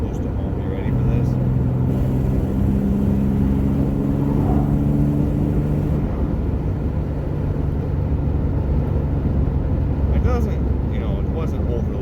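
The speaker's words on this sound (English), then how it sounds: "short little pull that I just did was 50 miles an hour up to 70 miles an hour" An old 1986 Chevrolet Camaro, parked for years, accelerates from 50 to 70 mph, a loud steady engine drone and road rumble heard from inside the car, with a rising tone partway through.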